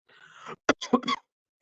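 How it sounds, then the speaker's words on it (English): A man coughs close to the microphone, a breathy throat-clearing rasp followed by a sharp cough and two quick rougher coughs. "Excuse me for the coughing, people."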